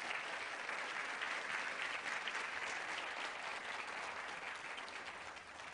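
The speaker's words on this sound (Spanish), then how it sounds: "les damos un fuerte aplauso también a los que nos están viendo a través de este medio" A church congregation gives a long, even round of applause during a Spanish-language service, dense steady clapping that holds at the same level throughout and fades slightly at the close, with no talk over it.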